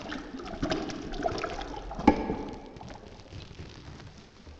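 Water is poured in one go onto a soil sample, giving a soft, muffled gurgle and splash with one brief sharper splash mid-pour, close and fairly quiet, with no talking.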